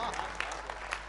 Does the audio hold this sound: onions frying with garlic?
no